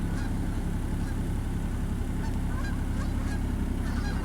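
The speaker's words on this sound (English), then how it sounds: "geese going." A dense flock of geese honks continuously, loud and overlapping, a constant chorus of calls with no pauses.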